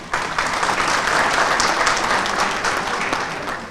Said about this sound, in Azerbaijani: Əziz qonaqlar, gəlin bu birliyimizi ürəkdən alqışlayaq